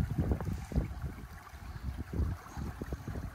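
Gusty wind buffets an outdoor gold prospecting site beside a 12-volt powered highbanker, loud low rumbling rising and falling in bursts for a few seconds, with no voices.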